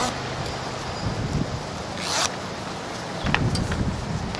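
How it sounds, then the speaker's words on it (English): Zipper on a Slim Away shapewear garment being pulled, with a quick zip and some fabric rustle close by against a faint background hiss. "It's got the zipper here."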